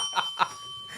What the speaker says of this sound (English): Hit the bell, dude.